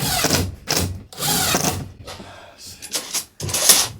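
A power drill driving screws during a home repair near electrical cables, several short whirring bursts close by, separated by pauses and mixed with handling noise.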